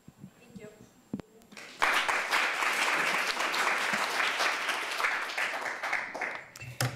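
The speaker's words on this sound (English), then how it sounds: "I'd like to just have everyone give you a round of applause again" Conference audience applauding panelists, starting with a few scattered claps before a full burst of steady clapping sustains for several seconds, then fades, with a voice briefly audible at the start.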